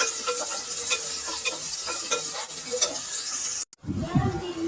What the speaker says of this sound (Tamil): வெங்காயம், நல்லா பொன்னிறமா வர வரைக்கும் நல்லா வதக்கணும்